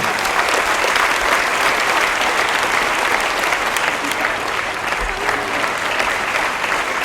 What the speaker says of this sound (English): give Faye a big round of applause, please